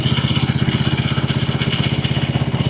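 A restored TVS Victor 100cc motorcycle engine idles close by, a steady, even low putter with rapid regular firing pulses and no other sounds.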